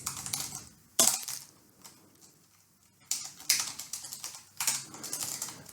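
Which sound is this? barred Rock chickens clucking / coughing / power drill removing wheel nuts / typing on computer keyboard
typing on computer keyboard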